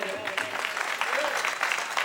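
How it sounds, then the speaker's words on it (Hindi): Audience applause at a Bundelkhand stage show with singers and dancers, a dense steady wash of many hands clapping for about two seconds, with voices mixed in over the crowd. "एक बार इन्हें भी जोरदार ताली बजाओ"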